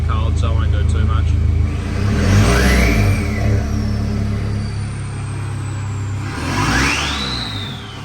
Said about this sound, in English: We'll give it a quick rev, but yeah, still a little bit cold, so I won't do too much.